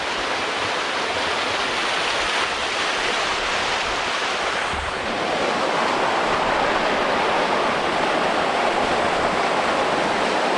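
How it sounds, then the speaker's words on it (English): Rushing mountain waterfalls in the Scafell fells on a remote solo wild camp, a steady loud broadband roar of falling water that continues throughout with some wind buffeting the microphone. "Still more waterfalls"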